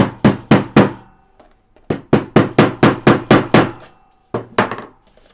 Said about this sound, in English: just pound the snap into place